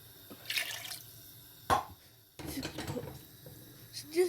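Water is poured into a cooking pot for a whole country chicken in a kitchen, with splashing and dripping bursts that come and go, close by.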